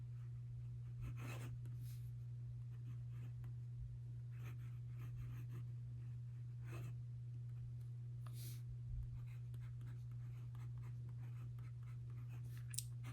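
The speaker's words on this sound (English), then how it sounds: "And I'm just going to do a little bit of cursive." A Monteverde Innova fountain pen writes cursive on paper, its soft, faint scratching strokes coming in short bursts over a steady low hum, with no talking.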